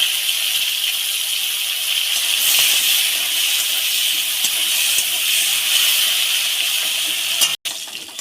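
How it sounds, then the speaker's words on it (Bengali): Crabs coated in salt and turmeric fry in hot oil in a wok, giving a loud, steady, close sizzle and hiss that holds throughout and cuts out briefly near the end. "এই কাঁকড়াগুলো লবণ আর হলুদ মাখিয়ে নিয়েছি, অল্প করে ভেজে নেব।"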